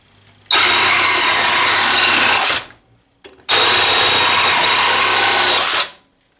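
A Milwaukee M12 FUEL Hackzall reciprocating saw cuts 1/2 inch copper pipe in two loud, close bursts of high, buzzing motor whine, each lasting about two to three seconds, split by a short silent pause.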